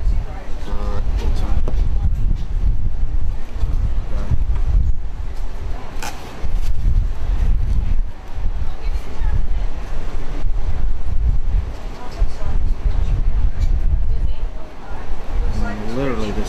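Strong outdoor wind buffets the microphone in loud, continuous low rumbling gusts, nearly constant with brief lulls, while people talk throughout.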